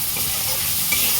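Onion, garlic and green chili fry in hot oil in a pan, giving a loud, steady sizzle with a bright hissing spatter and a faint stir near the end.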